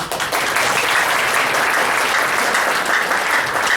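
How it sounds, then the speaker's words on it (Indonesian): Steady audience applause fills a room after a call to thank a teacher at a sales training event, dense and continuous from start to finish with no talk over it. "beri kasih tepuk tangan"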